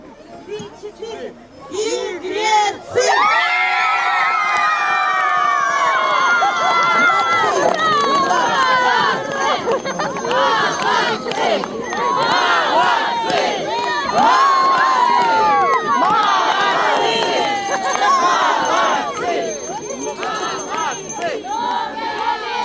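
At a Christmas carolling folk contest, a crowd shouts in loud chorus, then breaks into sustained cheering and excited yelling mixed with children's voices and chatter, close and dense throughout.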